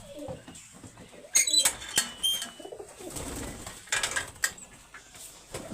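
A prized racing pigeon that won nine races coos close by. Soft bursts of cooing and rustling come through a busy background, with faint voices in between.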